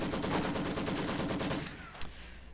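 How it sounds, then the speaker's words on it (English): Maxim machine gun firing in a World War II strategy video game, a loud sustained burst of rapid shots that cuts off near the end, followed by a brief single crack. "Volksgrenadiers draw Maxim's fire."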